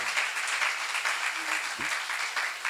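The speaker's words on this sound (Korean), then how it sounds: "박수로 하세요." Applause from an audience at a church seminar, a steady dense patter of many hands lasting throughout, moderately loud in a reverberant hall, with a brief low voice sound partway through.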